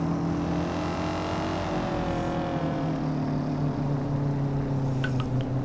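A car engine in the City Car Driving video game holds a steady, loud drone that rises slightly as the car accelerates, with no pauses and no voices.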